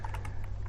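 Several fast, light keystrokes as code is typed on a computer keyboard, close to the microphone over a low steady hum, no voices.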